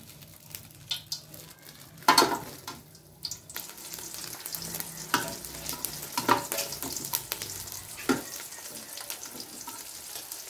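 Tuyo, dried fish, frying in cooking oil for pongapong ginisang sinigang, a close, continuous crackling sizzle with irregular louder pops and spatters and a few stirring scrapes, no talking.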